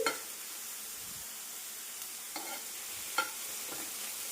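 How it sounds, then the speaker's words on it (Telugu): Dried shrimp dry-roasting and being stirred in a wok-style pan with no oil, giving a faint steady rustle with a few soft scraping clicks from the stirring, heard alone without talk. "మనం రొయ్యలు అనేవి దీంట్లో బాండీలో వేసుకొని తేమంతా పోయేదాకా ఇలా వేపుకోవాలన్నమాట ఫస్ట్ నూనె కూడా ఏమీ వేసుకోకుండా ఉట్టిగా ఇలా వేపుకోవాలి"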